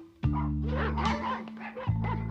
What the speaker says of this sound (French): Il y a une foule de chiens différents ici.